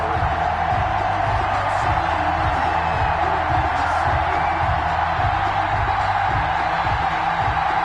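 Stadium crowd noise from an EA Sports NFL video game on PS4, Indianapolis Colts versus Seattle Seahawks, a steady loud roar of cheering fans with a low rhythmic pulsing underneath, running continuously without a break.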